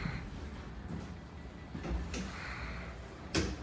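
An aluminium house door to a parking area is opened, giving a faint latch click and a soft knock, then a sharper thud near the end against quiet room tone.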